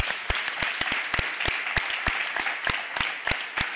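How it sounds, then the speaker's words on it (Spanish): Audience applause on a Catalan talk show, dense clapping from a studio crowd with several sharp, distinct hand claps standing out close by, steady throughout. "Un aplaudiment per la Nair."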